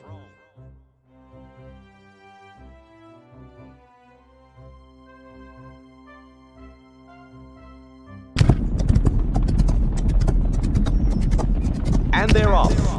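Racehorses break into a gallop at Parsons Valley in Rival Stars Horse Racing, a sudden loud rumble of pounding hooves that surges in after a stretch of quiet music and continues dense and steady.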